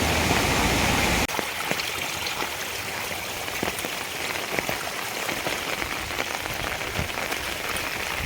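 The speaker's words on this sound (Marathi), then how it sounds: "रात्रभर पाऊस चालू आहे कंटिन्यू मुसळधार पाऊस होतोय आत्ताही सातत्याने पाऊस चालू आहे" Steady monsoon downpour over a tomato field in Nashik hisses and patters continuously, with scattered sharper drops and splashes; after a louder first second it settles into an even, close rush of water.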